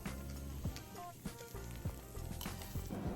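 An omelette sizzling and frying in a small pan, a steady close crackle with a few scrapes or stirs breaking through at intervals, fairly quiet.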